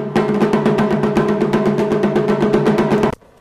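Taiko drums beat a steady offbeat rhythm in rapid, loud, even hits for about three seconds, then stop abruptly, with no voices over them.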